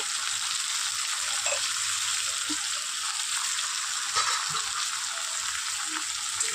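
Potatoes and onions, salted, fry steadily in oil left from frying fish, a dense even sizzle close by with occasional soft stirring knocks.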